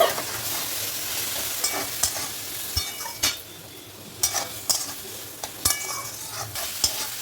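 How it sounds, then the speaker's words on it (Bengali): Potatoes and spice paste with turmeric and a little water stir-fried in a pan, a steady sizzle broken by a series of sharp spoon scrapes and clinks against the metal, close and without talk. "এবারে দেবো অল্প করে জল দিয়ে মশলাটা আমি ভালো করে আলু সাথে কষিয়ে নেব"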